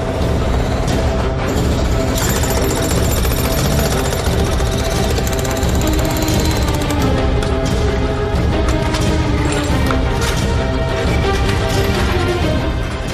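Police with a pneumatic jackhammer demolish an entire kitchen, a loud, rapid, unbroken hammering of steel on masonry and tile, close up, with occasional cracks and clatter of breaking material.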